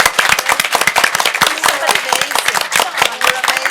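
Steady, lively clapping from a conference audience, dense and continuous throughout, with a few voices mixed in.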